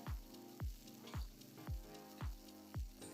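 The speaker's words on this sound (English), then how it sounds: "The frying of the onion, the frying of the lamb releasing that delicious lamb fat" Onion and lamb fry in a cast-iron potjie pot, a steady sizzle punctuated by about six rhythmic low thumps of stirring, close and fairly quiet with no talking.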